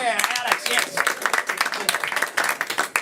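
Audience clapping and cheering for a person named Alex at a live event, dense rapid claps filling the room with excited voices mixed in throughout.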